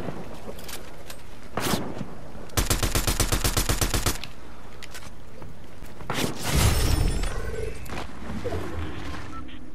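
Sniper and automatic gunfire in a shooter video game: a sharp single crack, a fast rattling burst of about a dozen rounds, then a heavy booming shot with a rumbling tail, all loud and close.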